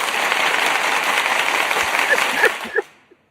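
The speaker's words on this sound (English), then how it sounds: "Let me give you an applause." Applause sound effect played during a live stream, a dense wash of clapping for about two and a half seconds that thins into a few scattered claps before cutting off.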